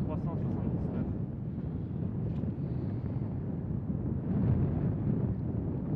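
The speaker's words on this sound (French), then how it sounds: "Il y a un gros vent là." A strong wind roars steadily across a seaside links golf course at Royal Cinque Ports, the constant buffeting against the microphone swelling slightly at times, while a person talks under it.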